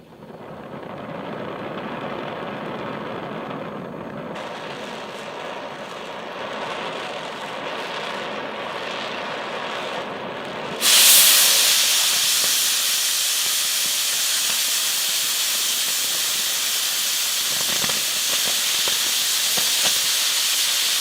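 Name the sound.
cutting through quarter-inch metal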